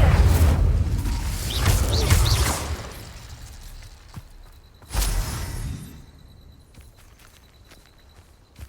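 A fire spell cast in Hogwarts Legacy, a sharp whooshing burst of flame that flares loudly and then fades, followed a few seconds later by a second punchy blast over a low rumbling game background.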